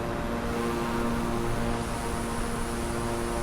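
A Beechcraft propeller plane climbs in Microsoft Flight Simulator, its engine a steady, dense drone with a constant tonal hum and no breaks throughout.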